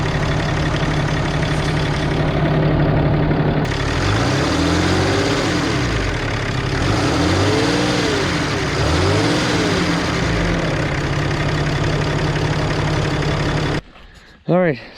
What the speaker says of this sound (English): So here it is at idle. I'm gonna rev it up and see if there's any sound at all coming out of this thing.